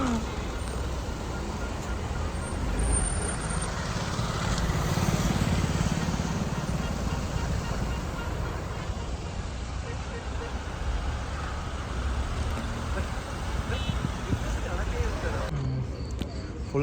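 Heavy road traffic heard from inside a Ford EcoSport on a long highway trip from Vizag to Prayagraj: a continuous rumble of engines and tyres with passing vehicles, while a voice talks over it.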